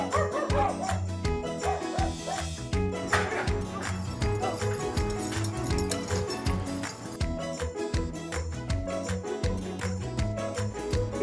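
Dogs bark in short bursts from a played clip showing old dogs made young again, sounding dense and steady throughout with music or other sound mixed underneath.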